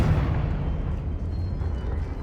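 A Confringo spell explosion in Hogwarts Legacy bursts into a deep, rumbling boom that rolls on heavily for a couple of seconds, loud and close.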